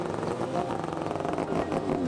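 A Norton RCW588 racing motorcycle at the Manx Grand Prix gives a steady, loud, buzzing engine and exhaust drone that runs the whole time without break.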